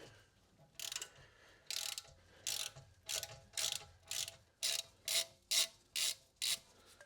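Ratchet unscrewing the rear brake caliper pins on a Volvo XC60, about a dozen sharp clicking bursts in a steady rhythm, close and fairly loud with no talk.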